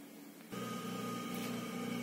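A sewing machine stitches a half-inch fabric strip along a neckline, a faint steady whir that starts abruptly and runs evenly with no talking.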